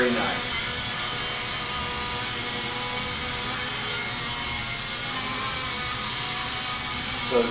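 A Novus FP200 RC helicopter, 16 inches long and weighing 6.5 ounces, flying with a steady high-pitched whine from its motor and rotor that stays loud and close the whole time.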